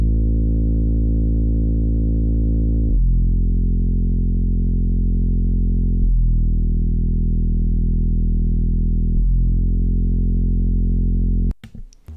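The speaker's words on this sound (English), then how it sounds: "I then added this bass from Analog Lab as well." Plain synth bass from Analog Lab with no effects, a deep sustained tone changing pitch every three seconds or so in a slow four-note pattern, loud and dry, cut off abruptly near the end.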